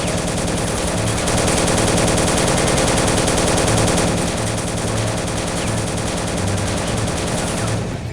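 Dense World War II gunfire from the video game Soldiers: Heroes of World War 2, loud continuous machine-gun bursts and rifle shots layered over one another for the whole stretch, with no talking.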